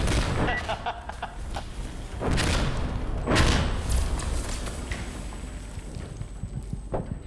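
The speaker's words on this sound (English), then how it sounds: "The artillery, their barrage started first and lasted longer." Artillery barrage explosions in Insurgency: Sandstorm, a series of heavy booms and thuds rolling in close succession, loud and near, with a voice speaking over part of it.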